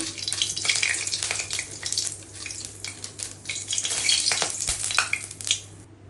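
Cumin seeds crackle and sizzle in hot mustard oil in a pan, giving close, busy spitting pops and a bright hiss with uneven bursts throughout.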